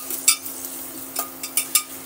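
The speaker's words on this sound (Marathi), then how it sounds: "या कांद्याला मी फ्राय करून घेते ब्राऊन कलर येऊपर्यंत" Chopped onion frying in extra oil inside a pressure cooker, a steady faint sizzle with a few sharp scraping clicks from stirring.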